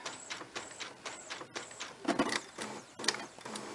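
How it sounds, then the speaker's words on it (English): A Brother printer prints pages, with a repeating cycle of mechanical whirs, feeds and clicks in a steady rhythm, each pass rising and dropping at close range. "I have actually been printing for the last maybe 20 pages like this"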